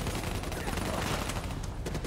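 Dense, rapid automatic gunfire fills a firefight in Call of Duty: Black Ops 3, loud and continuous throughout with no pause.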